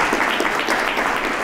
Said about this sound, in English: let's have a nice round of applause for Jeanette